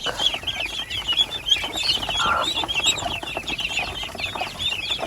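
Chickens cluck over and over on a rice-paddy farm, several birds overlapping in a steady, moderately close chatter with no talking.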